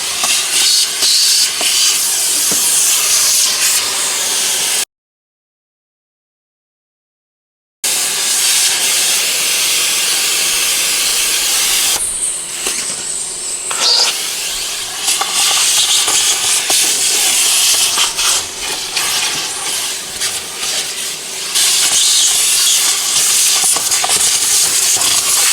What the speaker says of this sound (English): I'm vacuuming the inside.